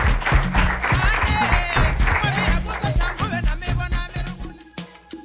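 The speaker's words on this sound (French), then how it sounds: "Des applaudissements." An audience at the close of a youth football camp event bursts into dense, loud applause and clapping, gradually thinning toward the end.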